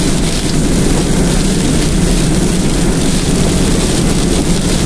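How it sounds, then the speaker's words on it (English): Strong hurricane winds and heavy rain battering a moving vehicle during Hurricane Earl in St. John's, Newfoundland, a loud, constant, dense roar filling the whole stretch without pause. "I've never driven in winds like this high, and the rain coming down"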